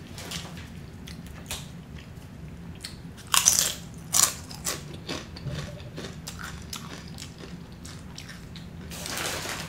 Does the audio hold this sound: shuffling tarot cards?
no